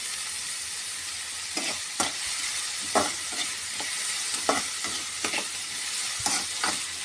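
Dry fish sautéing with salt in a pan, a steady sizzle broken by repeated scraping stirs of a spatula at irregular intervals, close and alone without talk.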